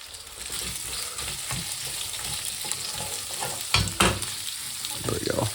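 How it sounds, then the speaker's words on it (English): Sliced onions dropped into hot oil in a pan for prawn biryani, a continuous crackling sizzle with a few louder bursts and stirring scrapes near the end. "I'm just going to put these onions in first."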